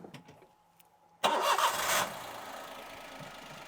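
A Toyota car engine converted to run on E85 ethanol cranks and fires with a sudden loud catch, revs briefly, then settles into a steady idle, heard close up in a workshop after a quiet lead-in.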